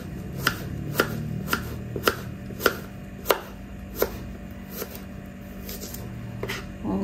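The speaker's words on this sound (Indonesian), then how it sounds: "Dan sekarang saya akan potong dahulu bawang. Ni bawang merah, hiris-hiriskan sahaja ya." Knife slicing red shallots on a chopping board, a dozen crisp irregular chops spread across the span, close and clear over a low background hum, with no talk.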